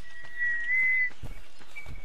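A whistled tune in ARK Survival Evolved: a thin, steady whistle holding one pitch then rising slightly, fairly quiet, with soft thumps and game noise around it and no talk.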